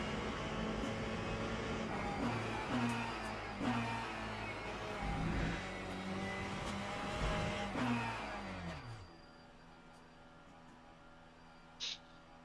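A GTE race car in a racing video game revs up and down through repeated gear shifts for about nine seconds before the engine note drops away to quiet.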